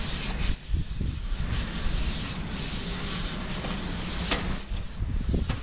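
Boat paint on a ketch in a boat yard is sanded by hand with sandpaper, giving a close, loud, rhythmic scratchy rubbing. Repeated back-and-forth strokes come with brief pauses between them.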